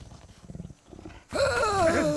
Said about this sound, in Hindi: ये तो बाघ है।